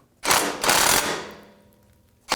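A socket wrench ratchets off exhaust flange nuts beneath a Chevrolet Trailblazer: two quick, loud clicking bursts close by, a fading tail, then one short sharp click at the end.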